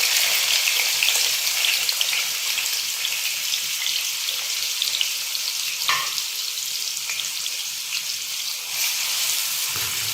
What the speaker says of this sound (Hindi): हल्का सा इसको फ्राई कर लेंगे।